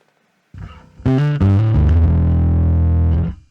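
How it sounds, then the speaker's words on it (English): A heavily distorted bass guitar played through a NUX MG30 plays a few low, gritty notes, then sustains a thick, buzzing tone before cutting off. "there's a ton of distortion"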